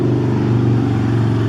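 A loud car sweeps past close by, its engine a continuous, heavy droning roar held steady through the brief moment.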